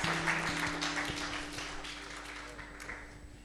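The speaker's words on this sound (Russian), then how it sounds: "Dodiet Dievam aplausus un apsēžieties" Applause from a church congregation at a sermon about God appearing to man, a broad dense patter that slowly fades over a few seconds, with a steady organ-like tone underneath.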